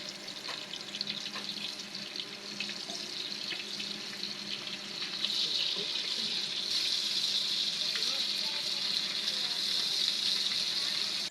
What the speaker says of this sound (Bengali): আজকে একটু অন্যরকম করে ভাজছে এখন আমু সাবধানে উল্টে দিচ্ছে